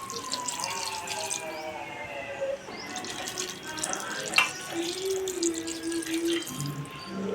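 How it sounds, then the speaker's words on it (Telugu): Two glasses of water pour steadily into a pot of mixed brinjal, drumstick and potato curry with a continuous splashing rush, some faint clinks and a low tone in the background. "2 గ్లాసెస్ వాటర్ అనేది కూడా యాడ్ చేసేసుకుందాం."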